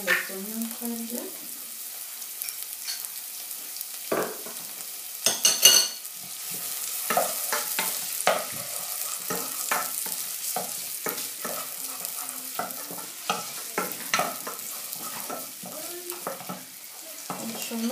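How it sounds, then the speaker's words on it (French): Onions caramelize in olive oil in a pan, a soft continuous sizzle with repeated stirring scrapes and occasional utensil knocks, plus faint bits of voice. "Je vais caraméliser d'abord les oignons très bien."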